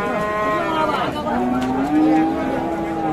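A bull at a cattle market in Kaharol, Dinajpur lets out a long, drawn-out moo that rises and wavers, close and loud above the background hubbub of the market.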